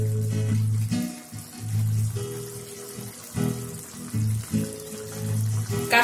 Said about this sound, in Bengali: এভাবে নেড়ে মশলাটাকে মিলিয়ে 2 মিনিট মতো আমি রান্না হতে দেব।